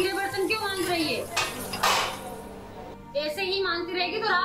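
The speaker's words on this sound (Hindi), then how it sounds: "इसलिए बर्तन धीरे मांज रही हूँ" Dishes and pots being scrubbed and washed by hand in a home, with metal utensils clinking and clattering in bursts while a voice talks over the washing.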